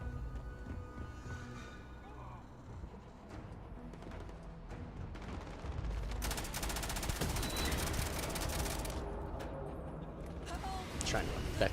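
Rapid gunfire from a gun in the video game Starfield rattles in sustained bursts, growing denser and louder partway through, layered over background game noise.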